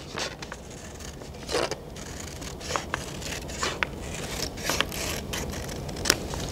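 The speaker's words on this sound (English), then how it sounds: "So I'm just trimming it a little bit because the sides were thinner than the top" Scissors trim the edges of a book page for papercraft art, a series of soft, close snips and paper scrapes at an uneven pace over a low room hum, without speech.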